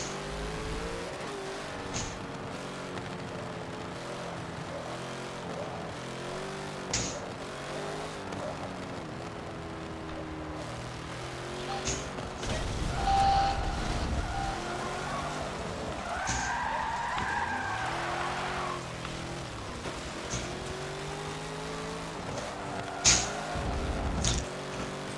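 Blancpain GT race cars lap Suzuka in a racing game, their engines droning and revving steadily throughout, with tire skids and squeals rising over the engine noise in the second half and a sharp spike near the end.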